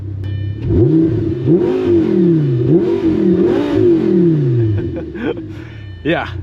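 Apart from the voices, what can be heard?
Lamborghini Gallardo V10 with straight pipes starting up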